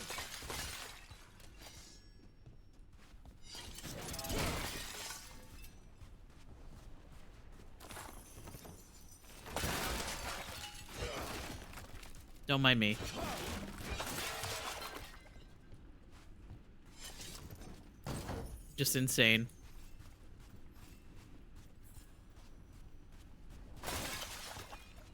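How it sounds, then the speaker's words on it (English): Glass shatters in Dragon Age: The Veilguard, a few sharp breaking crashes spread over a stretch of game ambience with scattered impacts and a brief spoken line. "I like the sound of when you break the glass"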